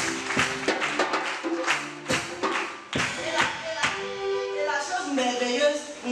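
A church congregation claps in acclamation at a CMCI Daloa gathering, sharp irregular claps and taps over music and voices, moderately loud and close.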